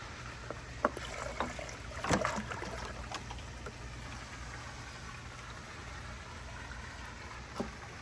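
Water pumps on a 13,000-gallon reef aquarium run as a steady low hum with a constant background wash, broken by a few faint bumps and splashes near and far.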